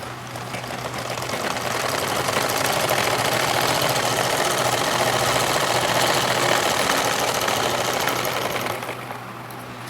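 A sewing machine stitching a blouse runs in one steady, continuous whir for several seconds and then slows near the end, with no talk over it.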